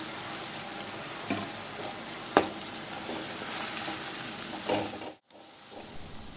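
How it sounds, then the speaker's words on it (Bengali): Spice paste with turmeric, coriander and ginger frying in a pan, a steady soft sizzle with occasional stirring scrapes and clicks, fairly quiet and close, with no talking. "এই মশলাটি একটু কষিয়ে নেব"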